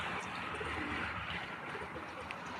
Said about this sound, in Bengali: এই যে আরেকটা নর কালদম বসে গেল।